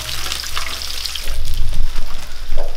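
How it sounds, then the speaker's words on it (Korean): Food frying golden in hot oil outdoors: a steady, close sizzle and crackle with some low handling bumps, and no talking. "노릇하게 얼마나 잘 튀긴다 봐봐라"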